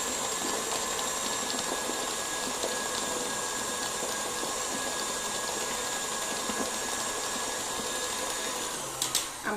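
Butter icing whips in an electric mixer turned up to a higher speed, a steady, moderately quiet whirring hum that runs unbroken with a few small knocks at the very end.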